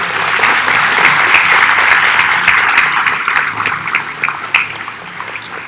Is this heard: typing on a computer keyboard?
no